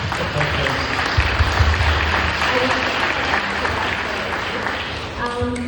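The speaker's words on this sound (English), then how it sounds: "Can we give everyone a clap" Audience applause at a youth wellness forum, a steady wash of many people clapping that carries through the whole stretch, with voices talking over it and the clapping fading near the end.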